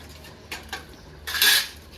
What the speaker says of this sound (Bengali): এদিকে আমি পেঁয়াজ কেটে নিচ্ছি।